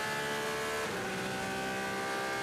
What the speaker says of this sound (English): see the 97 of Johnny Adam, the Aston Martin, going into that second chicane you're talking about